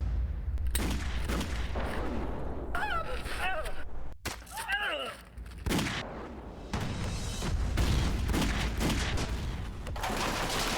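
Gunfire crackles through an intense action movie scene, loud bursts layered with a dense, booming score and effects, with short shouted vocal fragments in between and continuous heavy sound throughout.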